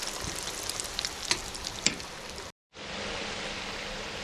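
Bluegill fish wedges frying in hot oil, a steady crackling sizzle with a few sharper pops, briefly cut off and then resuming as a smoother, even hiss.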